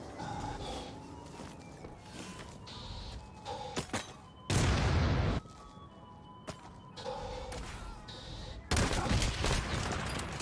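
A shield-equipped player in the shooter XDefiant fires in two loud, dense bursts of close gunfire between quieter stretches of game ambience and footsteps, with a voice talking underneath.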